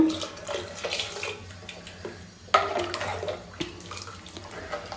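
Water pours steadily into a pot of sprouted horse gram sambar, a continuous splashing wash with a few clinks, close by and with no voices.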